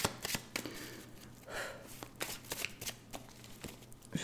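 Tarot cards cut and shuffled by hand during a reading, a run of quick riffling flicks and soft slaps, close and fairly quiet with no talk.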